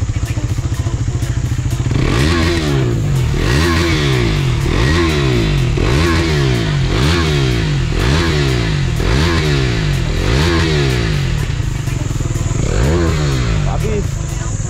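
A KTM motorcycle's aftermarket exhaust revving repeatedly at close range, a loud, steady engine rumble swelling and falling in regular rhythmic pulses.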